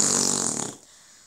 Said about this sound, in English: Stop farting so much.